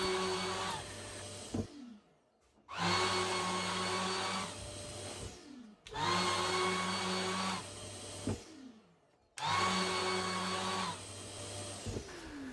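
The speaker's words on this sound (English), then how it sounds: "I can buff this off with a soft cloth between the sander and the cube" A power sander runs with a soft cloth pressed against a wooden cube to buff it. It whirs in four sustained bursts with short pauses between them, close and steady.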